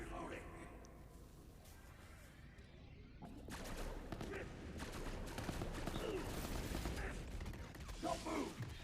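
Gunfire in the video game Borderlands: a quieter opening gives way to sustained, rapid shooting and clattering mechanical effects that grow louder and denser, with talk over the action.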